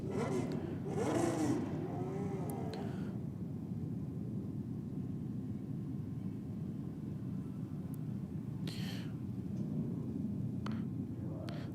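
Motorcycles running down a drag strip at a bike night race, a steady broad engine roar with a brief rising rev near the start and another burst later, heard at a distance.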